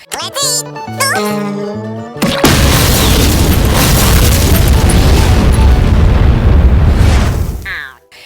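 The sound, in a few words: cartoon nuclear bomb explosion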